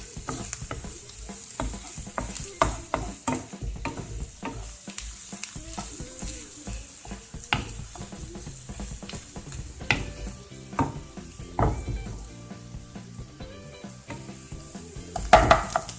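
Garden vegetables saute in a wooden-handled pan, a soft continuous sizzle broken by many scraping, clattering strokes as they are stirred and tossed, fairly close and without speech.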